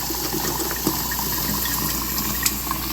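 Hot water pours steadily into a countertop Igloo ice machine to melt the ice inside, making a continuous close rushing and splashing sound with a few small clunks.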